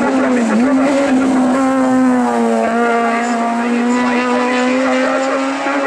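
Hill climb race car with a newly rebuilt 1.4 litre motorcycle-derived engine of over 200 hp, Minichberger-built, at the 2014 Eichenbühl Unterfranken hill climb, holding a loud, steady high-revving drone close by throughout with slight pitch shifts.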